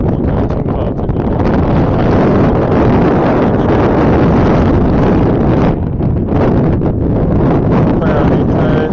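Strong gusting wind buffets a seaside fishermen's pier on an overcast day, a loud, roaring rush that blasts the microphone continuously with brief dips near the end.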